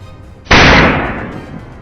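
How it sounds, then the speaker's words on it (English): A single sharp, loud gunshot bursts out after a quiet moment during a wild boar hunt, its crack ringing and decaying slowly into a lingering echo. "The relentless crack of gunfire followed it closely"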